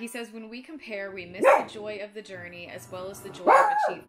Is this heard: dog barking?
yes